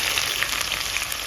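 Chopped onions fry in hot oil with bay leaf, fennel seeds, cardamom, cinnamon and cloves for methi chicken, giving a steady, dense crackling sizzle with no voices.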